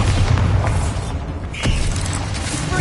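A single loud booming blast from the Bombarda spell in a Harry Potter game, rising out of steady rumbling and mechanical creaking, followed by continued low rumble.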